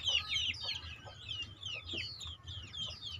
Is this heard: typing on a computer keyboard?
no